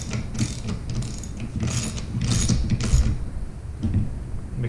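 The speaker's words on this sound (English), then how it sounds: "And I'm going to be using a 10 millimeter socket." A hand ratchet with a 10 mm socket tightens a locking nut while installing a LockRack rack. Rapid clicking pawl bursts come in several close, loud runs with short pauses between strokes, and no one speaks.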